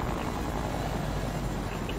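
Helicopter in the video game Fortnite keeps up a steady whirring rotor drone at moderate level through the whole moment, constant and unbroken, with no talk on top.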